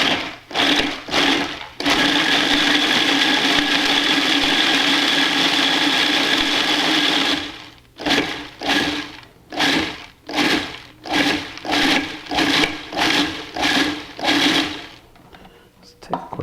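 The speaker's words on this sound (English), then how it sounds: "the food processor" Food processor crushing graham crackers into crumbs for a bacon pie crust, a long loud continuous whir followed by a quick series of short pulses, close up, with a voice speaking between bursts.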